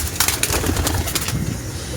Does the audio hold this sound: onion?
no